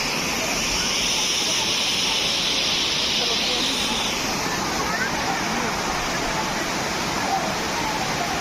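Courtallam main waterfall in Tamil Nadu, a loud continuous roar of falling water that fills the clip evenly from start to finish.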